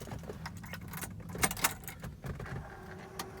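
An original folding key for a Ferrari 348 jangles against its keyring. Several light metallic clinks and rattles sound up close, with a couple of sharper jingles midway, in a quiet room.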